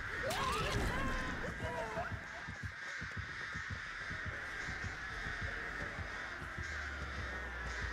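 Crows cawing in a video game, several harsh caws clustered in the first two seconds, then a low steady background hum with faint voices talking.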